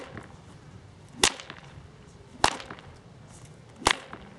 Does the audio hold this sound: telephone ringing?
no